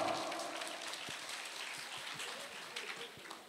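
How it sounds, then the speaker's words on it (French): Audience applause at a pageant evening, a steady wash of clapping from a crowd that holds for several seconds at moderate loudness with a few louder individual claps near the end. "Applaudissements s'il vous plaît."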